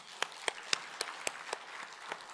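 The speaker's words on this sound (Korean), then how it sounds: "박수 한번 치십시다" Church congregation clapping during a Wednesday evening worship service, a sparse series of sharp, evenly spaced claps at a steady beat, moderately faint against a quiet room.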